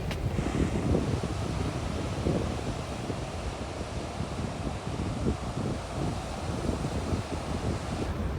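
Strong onshore wind buffeting the microphone at Rockaway Beach, a steady loud roar with ocean surf rumbling underneath throughout.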